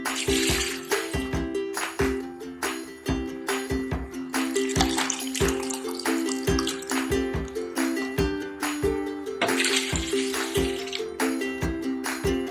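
Water is poured into a jug, giving a run of bright splashing and trickling with clinking of the vessel. The pouring comes in repeated bursts that recur through the stretch, close up with no talking.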